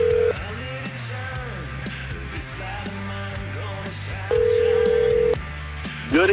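Telephone call placed during a live radio show, with an electronic ringback tone sounding twice in long steady beeps over a bed of background music and chatter.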